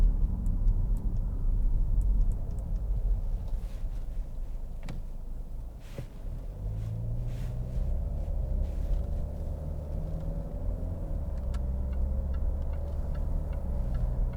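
A 2013 Jaguar XF 2.2 TD diesel cruises along a motorway, giving a steady low road and engine rumble with tyre roar and faint ticking clicks from inside the cabin, continuous and without speech.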